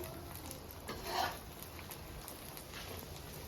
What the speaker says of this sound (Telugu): ఈ విధంగా మంచిగా గోల్డెన్ కలర్ వచ్చేంత వరకు ఫ్రై చేసుకోవాలి